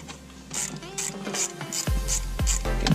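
A hand ratchet backs out 7mm bolts on a Ford Mustang dash during a SYNC 2 to SYNC 3 upgrade, giving a steady run of quick, close clicking strokes, about nine bursts in rhythm.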